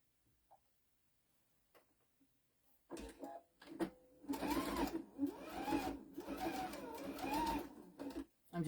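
A sewing machine stitches a quarter-inch seam around a towel at a 3 stitch length, its steady mechanical whir starting after a quiet pause and running continuously, close and fairly loud, with brief stops between bursts.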